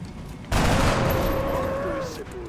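Point-blank SMG fire in XCOM Long War: a loud burst of rapid gunfire erupts suddenly and rattles on for about two seconds, with a descending whine trailing through it.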